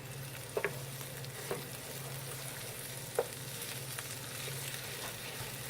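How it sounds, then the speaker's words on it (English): Tomato paste is stirred into onions sizzling in a pan for a beef and chorizo pasta sauce. A steady, soft sizzle runs throughout, with a few sharp spoon scrapes and taps. "Just going to mix that into the onion."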